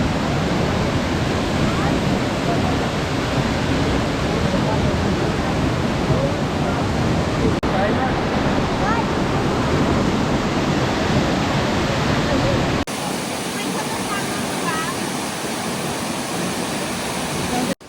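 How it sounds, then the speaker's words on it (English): Waterfall at Morialta Conservation Park, a big fall heard as a steady, loud broadband rush of falling water that fills the whole stretch, with a slight drop in level near the end. "I'll show you the waterfall now."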